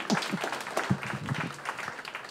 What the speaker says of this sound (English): How about a round of applause for Earhart?